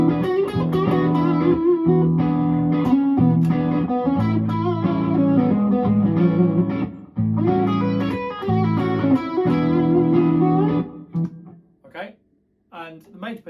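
An electric guitar with a distorted, effects-processed tone plays major pentatonic blues phrases over a major chord sequence, a steady run of sustained melodic notes that thins out and fades to sparse plucks near the end.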